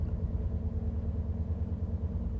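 A diesel train engine idles in the Train Sim World 6 game on the Birmingham Cross City line, a steady low rumbling throb that holds constant and close, with no voices.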